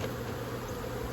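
Honeybees buzz around a beehive being prepared for spring: a continuous, even droning hum, close and moderately quiet, with no talking over it.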